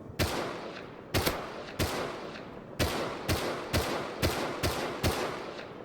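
SMG gunfire in the survival game Rust, coming as about nine sharp, separate shots and short bursts spread across several seconds, fairly distant and echoing, with no talk.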